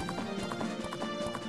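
Horse hooves gallop in Zelda: Majora's Mask on the N64, a steady rhythmic clip-clop running through the whole stretch with game background sound beneath it.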